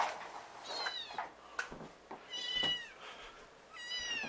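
A runt kitten with swimmer's disease cries in a litter of six beside its mother, giving several faint, high, wavering meows spaced across the clip against a quiet indoor background.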